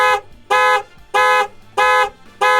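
A car alarm or horn blares in four loud, evenly spaced bursts of harmonic tone, each about a third of a second long and separated by short quiet gaps, with no other sound over it.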